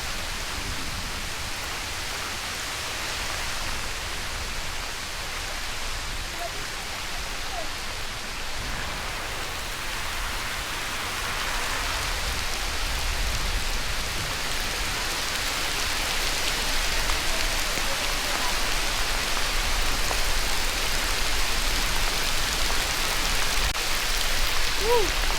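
Heavy rain pours steadily at a campsite in Cavinti, Laguna, a dense continuous hiss that grows slightly louder partway through, with no other distinct sounds.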